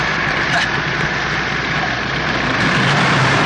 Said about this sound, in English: That engine has enough carbon to start a coal mine.